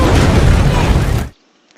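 A loud, roaring gas tank explosion blast sustains for over a second, then cuts off abruptly into near silence.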